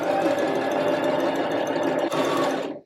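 A sewing machine runs a continuous, loud, fast mechanical chatter while stitching and reversing over a seam on an armhole channel of a jumpsuit, then stops abruptly at the end.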